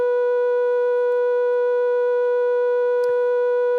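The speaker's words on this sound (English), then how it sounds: "there's our basic triangle wave type sound." A Malekko Richter Megawave modular oscillator holds a steady, unchanging triangle wave tone with a soft, hollow pitch and faint overtones, alone and sustained, with a tiny click near the end.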